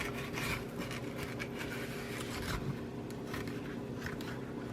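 A knife cuts around the inside of a bell pepper to pull out the core and seeds. It makes a steady, close rasping scrape that runs unbroken throughout.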